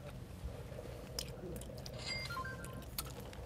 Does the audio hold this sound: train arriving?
no